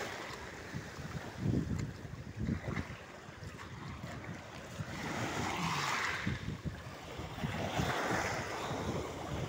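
Strong gusts of wind at the sea roar and buffet the microphone in rising and falling surges, with a rushing, surf-like wash underneath and no talking.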